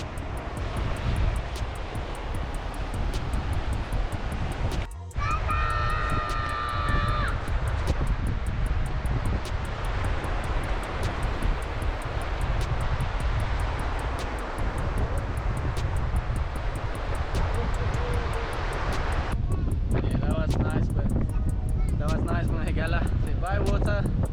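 Strong gusting wind buffets the microphone beside a camper at a caravan park in West Beach, Australia, with a steady broadband roar, rain noise underneath, and a brief sharp knock partway through.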